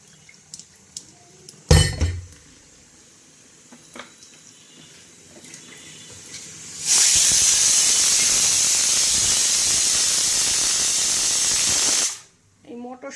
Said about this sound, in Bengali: প্রেশার কুকারে দিলে না ভয় লাগে সব ভসভস করে বেরিয়ে যায়